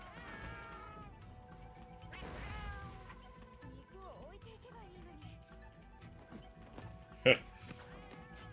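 Several cats meow in Monster Hunter Wilds, rising calls repeated over a busy game backdrop with chatter, followed by a sharp crash-like hit near the end.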